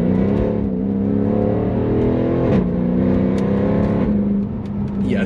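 A Mercedes W204 C63 AMG V8 revs hard from inside the car, engine tone rising steadily, then a sharp blip and crackle as it downshifts, the loud throaty roar continuing after it.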